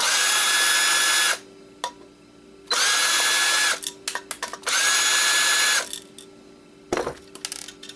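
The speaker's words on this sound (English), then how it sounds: "Let's unscrew some of this stuff first." A power screwdriver backs screws out of a circuit board in three loud, close, whining bursts. Short clicks and rattles fill the pauses between them, with a brief knock near the end.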